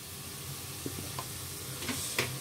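Spices sizzle in hot oil in a pan for a cauliflower curry, a soft steady frying hiss with a few faint clinks of stirring, close and without talk.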